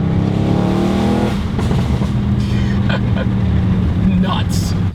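An Audi RS7 accelerating hard in third gear, its engine roaring loud and steady at close range with a rising tone as revs climb, a voice talking briefly over the din.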